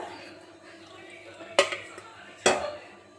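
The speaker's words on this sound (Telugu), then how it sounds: "పోపుల గరిట పెట్టుకొని వేడైనాక" A metal tempering ladle is set down on a stove with two sharp clanks about a second apart, close and distinct over a quiet kitchen background.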